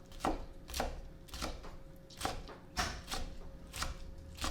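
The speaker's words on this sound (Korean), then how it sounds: "저희가 집고추를 한번 다져고 시작을 해 보겠어요." A knife chops homegrown chili peppers on a cutting board, with about nine evenly spaced close thuds in a steady rhythm, fairly quiet, with a faint steady tone in the background.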